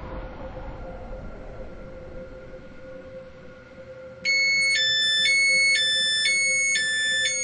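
An SCR express train in a video game pulling into Llyn By The Sea, a steady rumbling hum of the moving train, then a loud repeating electronic chime tone playing over the running noise near the end.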